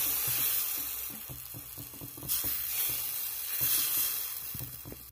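Patisapta batter sizzling in oil on a hot tawa, a bright steady hiss with a few soft taps and scrapes, heard close up with no talking.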